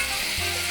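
Steak fajita ingredients, with Hatch New Mexico chile among them, sizzle and fry steadily in a hot pan as a dense, even hiss close by, alone with no voices.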